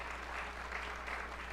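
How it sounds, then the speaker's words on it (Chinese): A church congregation claps together during a Sunday worship service in Kaohsiung, welcoming a new member, a steady wash of applause with no one speaking over it. "我们来拍手来接纳我们的美玉姐妹成为我们当中的一员"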